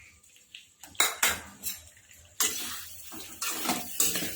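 A spoon scrapes and clinks against a pan while spiced dry potatoes with garam masala and fresh coriander are stirred, giving a few sharp metallic knocks and scraping passes, close and moderately loud, with no talking.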